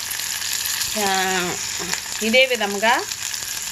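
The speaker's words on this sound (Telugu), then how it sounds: "గోల్డ్ కలర్లోకి వచ్చిందాకా వేయించుకోవాలి ఫ్రెండ్స్." Sorghum rava (jonna rava) roasting in a pan until golden for upma gives a steady, soft sizzle throughout, with a person talking over it in two short bursts.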